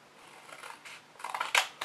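Scissors snip paper along score lines while trimming corner pieces for a ribbon-lidded box, a series of close, crisp cuts that grow louder toward the end.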